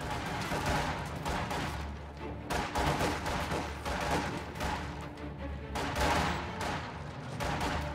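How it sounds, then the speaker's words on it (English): Dense, continuous small-arms fire and rattling bursts from a real-time strategy battle, with Soviet conscripts trading shots against grenadier squads. The crackle stays loud and unbroken throughout with no talk. "Being engaged by these conscripts, Jesulin being very aggressive"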